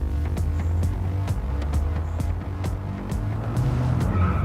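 Mini truck in a drag race, its engine roaring loudly and steadily throughout with repeated sharp bursts and faint tire squeal, close and alone with no talk.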